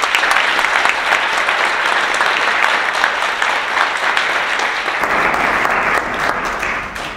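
Sustained applause from a large audience at a Women Led Revolution political event hosted by members of parliament, following a speech; dense steady clapping throughout, easing slightly near the end.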